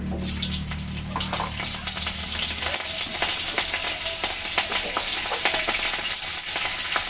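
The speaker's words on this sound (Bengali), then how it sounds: "ফোড়নে দিয়ে দিলাম কিছু রাঁধুনি, দিয়ে দিলাম কাঁচা লঙ্কা" Radhuni seeds and green chillies tempering in hot oil, with a steady close frying sizzle and crackle throughout, a low hum under the first few seconds, and no talk.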